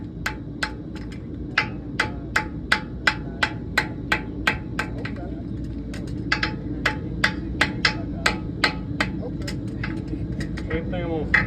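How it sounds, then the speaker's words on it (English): Sharp metallic hammer taps ring out in a quick, even series, about two dozen light strikes close by as the hammer tip draws a clip in the web of a horseshoe, over a low background hum. "I'm going to put the clip into the web of the shoe, just the tip of my hammer there"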